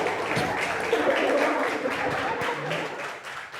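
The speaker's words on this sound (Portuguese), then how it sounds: "Uma salva de palmas." Audience applause after a stand-up comedy set, a crowd clapping steadily at close range with a few voices murmuring underneath, tapering slightly near the end.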